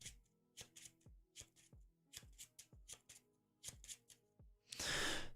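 Playing cards for a Wasp versus Sinister Six superhero card game are shuffled back into a deck: quiet, close tapping and flicking in short clusters, ending in a brief louder riffling burst.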